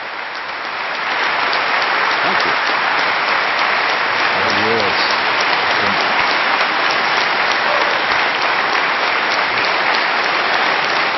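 Sustained applause from a debate audience after a lively Hitchens versus Hitchens debate in an auditorium, a dense, steady roar of clapping that swells in the first second and holds loud throughout, with faint voices underneath.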